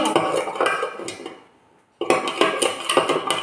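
A spoon stirs sugar into lime juice in a glass, giving loud, close clinking and scraping in quick bursts, with a brief pause in the middle before the stirring resumes.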